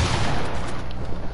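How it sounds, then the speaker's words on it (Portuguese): Gunfire from an AWP sniper rifle in the computer game CS:GO, a loud, close, dense blast of shooting noise lasting just over a second, with no speech. "Eu tomo um tiro de AWP"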